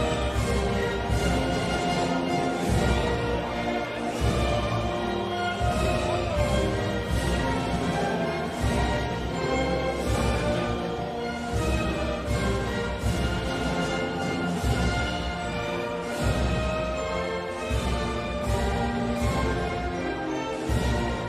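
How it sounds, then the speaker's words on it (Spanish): The Spanish national anthem plays loudly with full brass and orchestra, steady and continuous throughout, at a super featherweight boxing title bout. "vamos a escuchar nuestro himno nacional"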